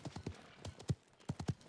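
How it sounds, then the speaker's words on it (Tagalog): Horse hooves clip-clop in the Paladins video game, a quick run of close, punchy hoofbeats in uneven bursts, heard alone without talk. "Kabayo."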